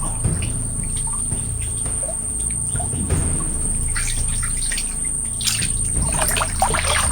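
Water current flows in a Sundarbans creek as a steady rushing wash, with birds chirping and insects buzzing around it throughout.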